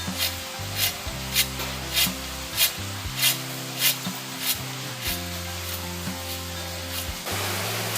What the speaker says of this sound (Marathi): आता हे शेंगाने एखाद्या ताटामध्ये घेऊन हे बघा दिसत आहे तुम्हाला हे असे कणकण आहे हे काढून टाकायचे घ्यायचे नाही तर हे पाखडून घ्यायचे आहे